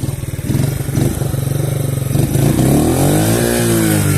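A Mondial SFC 50 motorcycle with a 100 cc engine revving up close, its loud buzzy single-cylinder note rising and holding in pitch as the throttle opens, with no talk.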